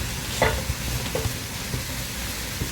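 Chopped onions and carrots sizzle steadily in a pan, a soft continuous frying hiss broken by a few brief stirring scrapes, fairly quiet and close with no talking.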